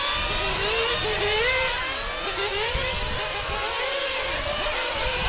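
Radio-controlled GT race cars lapping at the 2015 IFMAR GT World Cup final, a continuous high-pitched whine of small engines rising and falling as several cars accelerate and pass, loud and near.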